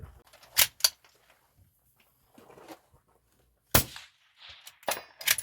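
Rifle bullets striking a steel target at a hunter-style shooting competition, several sharp distant clangs and cracks scattered irregularly with quiet gaps between them.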